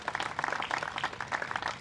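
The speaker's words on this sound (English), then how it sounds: "So Please give them a round of applause." An audience applauds bus drivers at a museum time capsule dedication, with steady, moderately soft clapping from a crowd that continues throughout.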